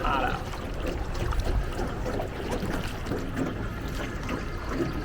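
A boat ride on the water in Ninh Binh, Vietnam, with a steady rumbling motor and rushing water and wind noise, loud and continuous throughout, with voices speaking over it.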